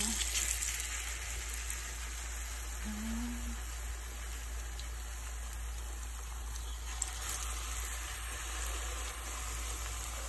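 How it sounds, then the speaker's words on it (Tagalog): Steady crackling sizzle of battered banana fritters (maruya) frying in hot oil, continuous and fairly close, with no talking. "Mainit na yung ating mantika. So, prito na natin yan."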